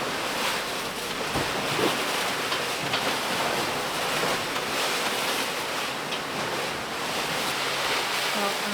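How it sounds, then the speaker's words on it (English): Rough ocean waves rushing and breaking continuously around a sailboat on passage, a dense steady roar mixed with wind buffeting the microphone, and faint talk underneath. "Ooh, these waves,"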